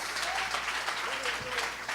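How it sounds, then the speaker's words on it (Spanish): A church congregation applauds steadily and fairly loudly, a dense continuous patter of many hands, with a voice briefly audible underneath. "Si va a aplaudir, aplauda con ganas."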